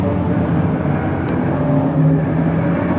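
2024 Mazda Miata ND3 Club race car at Sonoma Raceway, its engine droning steadily and loudly from inside the car as it drives at speed on track, with constant road and wind roar.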